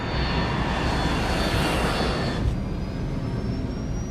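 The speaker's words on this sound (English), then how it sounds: "The plane takes off from Stansted Airport at 6:36 p.m." An airliner taking off from Stansted Airport, heard as a loud, steady, broadband engine roar with a faint rising whine running through the whole stretch, no voices.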